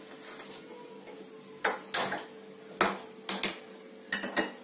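A metal kadai pan being set on a kitchen stove gives several sharp, close clanks and knocks, spaced irregularly against a quiet background hum.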